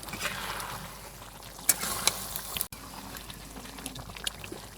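Duck meat being stir-fried with spices in a pan, a steady bubbling sizzle with a few sharp spoon clinks against the pan midway.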